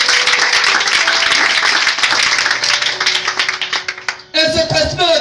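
A church congregation applauding and cheering in praise, a dense, loud wash of clapping that thins toward the end before a preacher's voice comes in over it.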